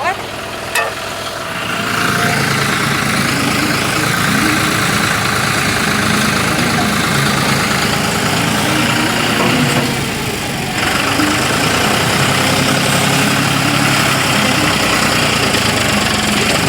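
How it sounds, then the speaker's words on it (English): A mini excavator's engine idles steadily and loudly nearby at a dirt-digging site, a constant low rumble filling the whole stretch with no break. "Clance is probably going to get on the Mini X over here and push that pile of dirt back"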